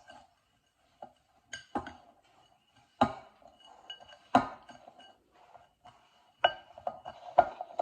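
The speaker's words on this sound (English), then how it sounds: "Mix this into the cream cheese." A spoon stirs Oreo cookie crumbs into cream cheese in a bowl, giving sparse, separate clinks and knocks against the bowl with quiet gaps between them.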